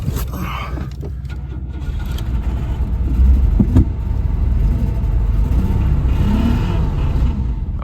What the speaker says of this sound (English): See what happens if we give it some throttle.